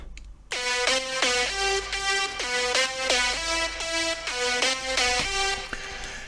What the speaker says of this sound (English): This first lead and also the main lead of first track is called Nordic Sky, and it sounds like this.